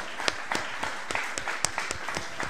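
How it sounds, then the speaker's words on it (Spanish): A church congregation claps in praise during a worship service, a rhythmic run of fairly loud, evenly spaced claps over a softer bed of scattered applause. "¿Cuánto le dan un aplauso al Señor?"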